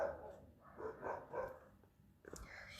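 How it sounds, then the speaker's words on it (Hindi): Dogs barking outdoors at night, a repeated run of moderately distant barks in an uneven rhythm, followed by a sharper, closer yelp near the end. "स्टार्ट हो गए मेरे कुत्ते।"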